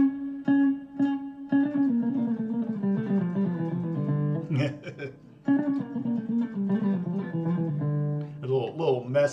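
Electric guitar soloing over a two-chord vamp with every note picked, a steady run of distinctly articulated notes with short pauses between phrases, close and clear, no voices.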